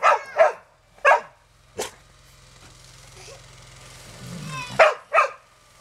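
Dogs, one of them a belgian, barking in sharp yips and barks indoors: a quick burst of four or five barks, a pause with low rumbling, then two more close, loud barks.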